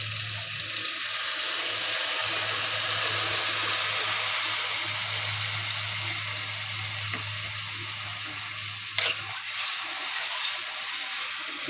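Water is poured over fried spice paste in a pan for a fish curry, producing a steady, even hiss over a low hum, broken by a single sharp clank near the end.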